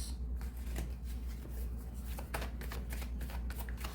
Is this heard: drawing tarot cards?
yes